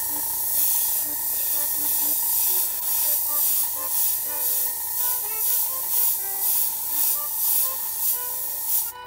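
Airbrush spraying Mr. Color Ultra Metallic paint onto a clear spoon, with a close, steady hiss broken into rhythmic pulses by short trigger bursts, under a faint background hum.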